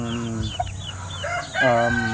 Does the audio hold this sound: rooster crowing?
yes